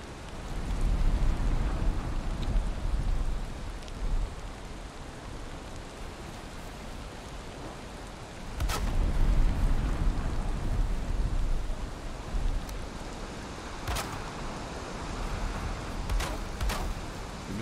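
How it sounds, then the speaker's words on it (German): Steady rain falls in a video game as a continuous hissing wash of broadband noise, swelling and easing, with a few sharp clicks and thumps breaking through; no voices. "Ich dachte, es wird jetzt auch zu regnen"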